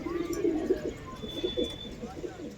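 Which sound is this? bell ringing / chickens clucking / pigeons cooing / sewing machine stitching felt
pigeons cooing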